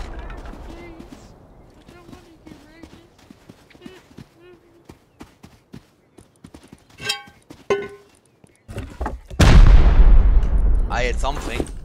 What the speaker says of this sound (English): Dude, I shot a rocket right at him.